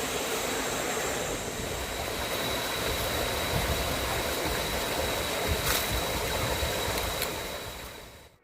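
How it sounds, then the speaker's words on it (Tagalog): Kinabuan Falls in Tanay, a forest waterfall, roars as a steady broad rush of water that fades out at the end. "Ayan, oh, falls."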